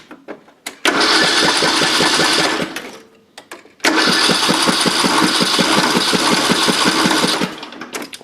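Small engine on a cheap zero turn mower being cranked to start, two long bursts of rapid rhythmic churning chugs, loud and close, separated by a short pause, with no catch into a steady run.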